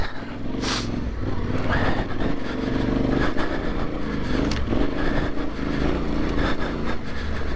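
Yamaha Tenere 700 motorcycle climbing a slippery, icy uphill trail in first gear, its engine droning steadily and continuously up close with no talk.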